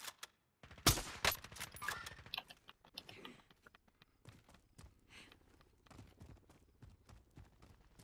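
Automatic gunfire in the video game Call of Duty: Modern Warfare: a loud, rapid burst of shots up close, then scattered fainter shots and distant rattles trailing off.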